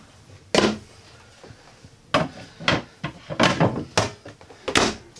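Wooden drawers in a 2014 Allegro Red 33AA RV kitchen slide open and shut, giving about six sharp thunks and knocks at irregular intervals, close and loud, with quiet rustling between.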